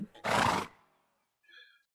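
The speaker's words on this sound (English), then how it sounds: "Sorry, that's my horse." A horse in the video game Medieval Dynasty lets out one loud, close whinny, followed by a brief faint shrill call after a short silence.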